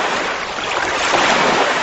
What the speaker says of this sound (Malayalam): തിരമാല.